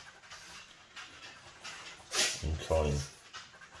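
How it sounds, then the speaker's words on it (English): A dog sneezes close by, a short sharp burst followed by a couple of snorting puffs, while a person talks over steady background noise. "Oh, sneezing dog."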